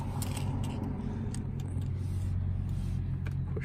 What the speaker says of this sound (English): when you turn the car on